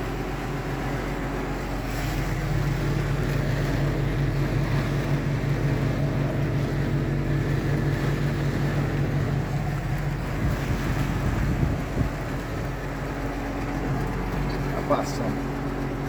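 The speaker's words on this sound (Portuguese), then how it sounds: "Não tem granizo, mas o vento está muito forte." Strong wind blows across a farm during a rainstorm, a constant roaring gust noise buffeting the microphone, with someone speaking over it.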